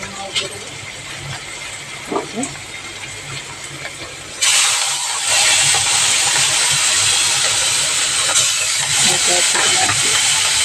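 Food boiling in a cooking pot, with a loud, steady hissing, bubbling roar that swells suddenly partway through and holds close and constant, while a voice talks over it.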